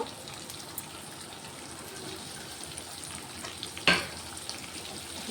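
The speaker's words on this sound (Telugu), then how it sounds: "ఇప్పుడు కట్ చేసుకున్నా పచ్చిమిర్చి ఉల్లిగడ్డ వేసుకుంటున్నా" Chopped green chillies and onion sizzle steadily in hot oil after ginger-garlic paste, frying for a spicy chicken dish, with one brief louder clatter midway and no talking.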